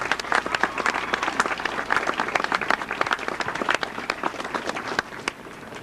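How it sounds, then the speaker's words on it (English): Dense, lively applause from a crowd, a continuous patter of many hands clapping that fades slightly toward the end. "If they can give them a nice round of applause."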